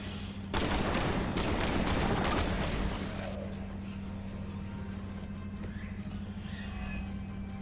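A rapid burst of Mag Dump gunfire from Marvel's Midnight Suns, several quick loud shots in the first three seconds, then fading into a steady game hum with softer effects.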